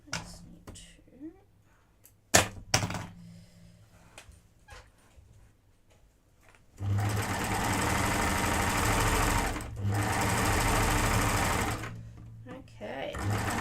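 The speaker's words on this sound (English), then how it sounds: "this is how quickly cover stitches work. I do love my cover stitch." Cover stitch sewing machine running in two fast, steady bursts of continuous whirring, loud and close, after a quieter stretch with faint sounds and a brief dog whimper.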